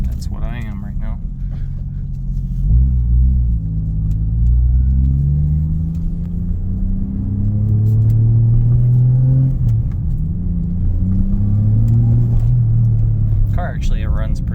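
A Toyota JZX100 drift car engine rumbles and idles, its pitch rising and falling through several revs, with a voice heard briefly at the start and end.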